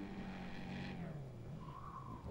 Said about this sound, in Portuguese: Já tô escutando o barulhão do motor dele